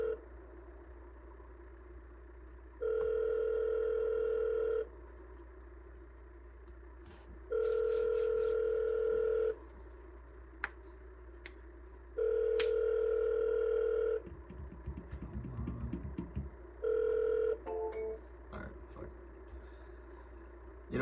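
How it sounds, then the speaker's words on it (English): A telephone ringback tone on an outgoing sales cold call repeats four times, each steady tone lasting about two seconds with pauses between, over a low constant hum. "Don't be afraid to double dial, man."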